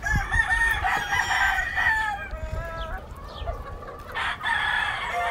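Claire gamefowl hens and roosters cluck and crow in a farmyard, the crowing loud and drawn out over a steady layer of clucking and background noise.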